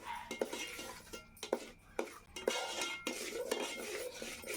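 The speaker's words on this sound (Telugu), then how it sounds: "ఇది నెయ్యిలో వేసుకొని వేపుకుంటున్నా." Semolina (rava) roasting in ghee in a pan, half a kilo of it, with a spoon stirring and scraping against the metal in a steady series of close clinks and scrapes.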